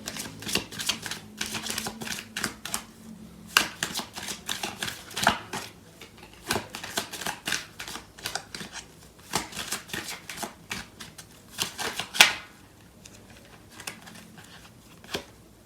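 A deck of tarot cards being shuffled by hand, close and crisp, with repeated riffles and slaps of card edges in an irregular rhythm throughout.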